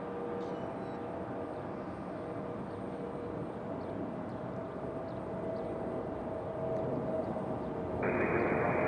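A Delta Boeing 717 airliner on the move at Raleigh-Durham airport, a steady, moderately distant engine rumble and hum that holds constant, then swells slightly louder near the end.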